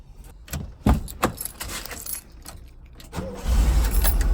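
A 1977 car cranks over after keys jangle in the ignition, then the engine catches and settles into a low, steady idle close by.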